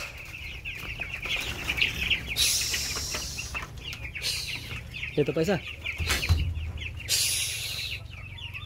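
Chickens cluck and a rooster calls in a vegetable garden, with short wing-flap bursts and scratching, fairly close and steady over the scene; someone speaks briefly partway through.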